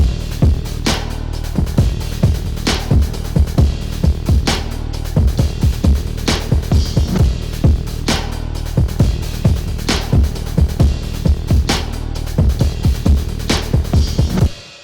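An 808 bass line driven through a Decapitator mid-drive preset, a deep saturated boom pulsing under a repeating drum pattern, loud and steady with no talk.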